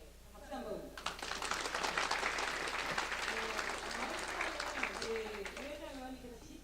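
A crowd bursts into sustained clapping for several seconds, while a voice keeps talking over the applause from start to finish.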